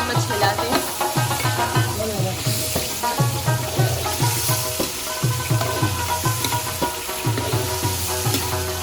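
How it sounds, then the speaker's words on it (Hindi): Beef sizzles and fries in a pot for nihari while a spoon stirs it in a steady repeating rhythm, with loud continuous frying hiss and periodic scraping strokes close by. "हम चम्मच हिलाते हैं।"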